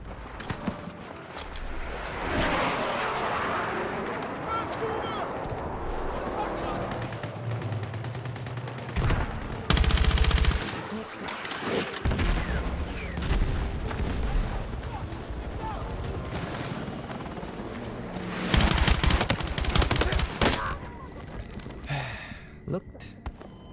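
Shotgun blasts go off in a Battlefield 6 Conquest match as scattered, sharp bursts, with a few louder clusters across a long stretch. A player talks casually over much of the gunfire.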